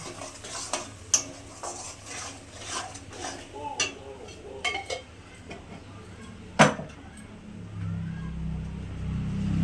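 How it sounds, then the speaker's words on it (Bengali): A spatula stirs masala with turmeric and a little sugar in a pan, giving repeated close scrapes and clinks over a sizzle that swells toward the end, while someone talks. "এবার মশলাটা ভালো করে কষিয়ে নেব।"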